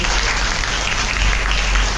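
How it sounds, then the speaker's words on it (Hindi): An audience at a Shrimad Bhagwat Katha gathering in Alipur Garhi claps loudly in a dense, continuous burst of applause that stays at an even level for its short duration. "एक बार हमारी बेटियों के लिए, बहनों के लिए जोरदार तालियों का स्वागत करेंगे"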